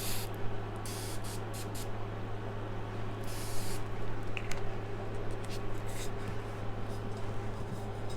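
Makeup setting spray from Sephora or Ulta hisses in short bursts, a few quick close spritzes near the start and another longer puff partway through, over a steady low hum.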